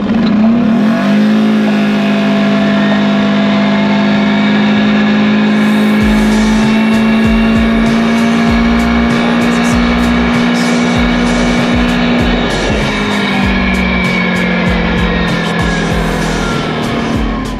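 Polaris 450 off-road vehicle fitted with a CVTECH clutch, driving in low range four-wheel drive: a loud, steady engine drone holding a constant pitch, rising slightly mid-run and then easing, with no talking.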